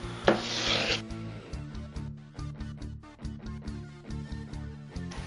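Sanding a Ruger 10/22 rifle bolt by hand with 400 grit sandpaper gives a series of short, quiet rasping strokes in an uneven back-and-forth rhythm, close up with no talking.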